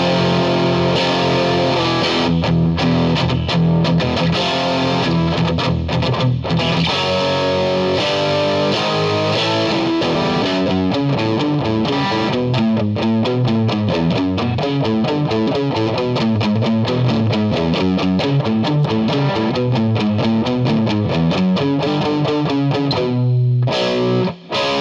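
Electric guitar on a Starfavor relic Strat-style guitar, played through the heavy-gain Mark IV mode of a Mesa Boogie amp with a little reverb: thick, saturated distorted tone in continuous riffing, with sustained chords and fast choppy note runs throughout, loud and alone.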